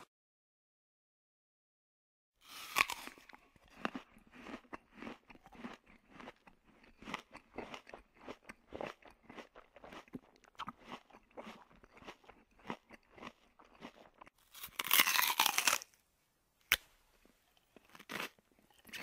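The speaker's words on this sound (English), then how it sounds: "This triangle sandwich tastes pretty good." Crunchy bites and chewing of a triangle sandwich, a steady run of close crisp crunches after a short silence, with a louder burst of crackling near the end.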